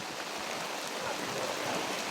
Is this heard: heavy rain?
yes